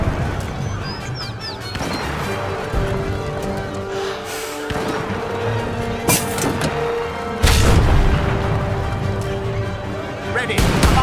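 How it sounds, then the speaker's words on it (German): Cannons fire in Age of Empires 3 amid battle noise, several dull booms and crashes scattered over a dense, busy game soundscape with brief unit voice calls. "Mit 3 Kanonen kriegen wir es klar."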